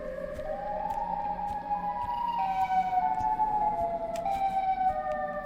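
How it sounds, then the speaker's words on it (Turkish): Siren Head's siren wail in the horror video game Siren Head Stranded: a loud, sustained wavering tone that slides slowly between pitches over a dark, rumbling backdrop. "Ya klasik siren sesi ama oyunun atmosferi çok iyi."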